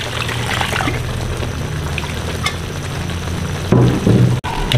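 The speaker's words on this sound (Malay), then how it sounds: "Kita masukkan air lagi." Water poured into a hot pan while cooking fish in soy sauce on a home stove: a steady, loud sizzling wash of liquid that swells into a heavier splash near the end, with no voices.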